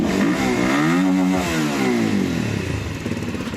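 A Rusi Flash 150X motorcycle engine running up close, loud and steady with a throbbing, clattery tone that rises and falls slightly in pitch before settling into a rougher, uneven putter near the end.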